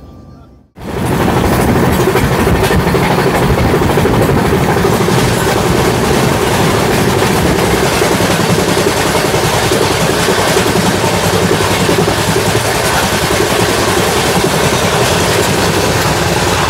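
The Doon Express rumbles along the rails from Howrah toward Haridwar, a loud, continuous roar of wheels and carriage noise that starts abruptly and holds steady throughout.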